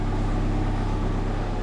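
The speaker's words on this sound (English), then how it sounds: "I'm gonna warm the engine up for a bit." A diesel BMW engine idling on a cold morning at about minus eight degrees, a steady, close, low-pitched rumble with an even drone and no voices.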